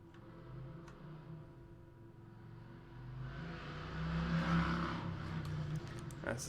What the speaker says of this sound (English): That's the sound of a motorbike outside